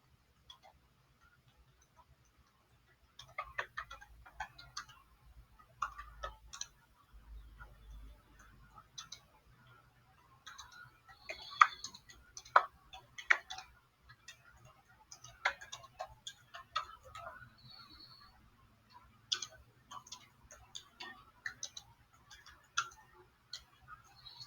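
Slow, irregular typing on a keyboard produces faint, scattered clicks and taps in a quiet room, with short pauses between clusters of keystrokes.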